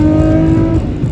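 A Nissan Skyline R34 GT-R pulls hard with a loud, close engine note climbing in pitch, a strong steady tone that drops away near the end of the short burst.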